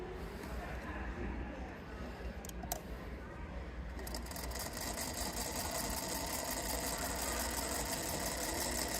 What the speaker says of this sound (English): we're going to sew on the line